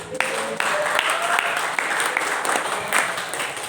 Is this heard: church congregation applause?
yes